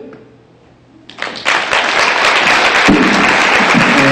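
Audience applause for pageant candidates at a fair: after a quiet moment, clapping starts in scattered hands and swells into loud, sustained applause from a nearby crowd.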